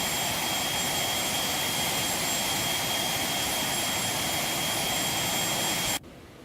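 Phenom 300 jet engines in X-Plane 12 give a loud, steady roar with a high whine across it, then cut abruptly to a quieter hum near the end.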